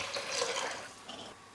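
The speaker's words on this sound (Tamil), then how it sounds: "அரிசி கழுவின தண்ணியை சேர்த்துக்கிறேன்." Rice-washing water poured into a pot of rasam, a soft, continuous trickle and splash close by at low volume, lasting a second or so before it tapers off.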